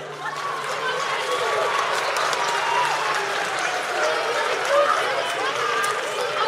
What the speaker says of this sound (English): Another round of applause for our string students.